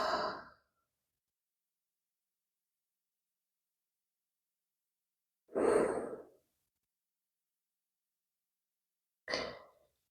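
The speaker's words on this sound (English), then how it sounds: "Nice deep breaths here." Three separate deep breaths during a yoga session, each a soft, close airy exhale or sigh, spaced several seconds apart with silence between them.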